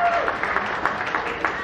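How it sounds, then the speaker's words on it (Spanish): Brief applause and scattered clapping from wedding guests after a heartfelt toast to the bride and groom, a short burst with individual claps audible at moderate distance. "Un aplauso"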